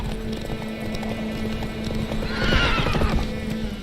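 Roach the horse in The Witcher III neighs and gallops with steady clip-clop hoofbeats, a whinny rising near the middle over an ambient game backdrop, fairly loud and without speech.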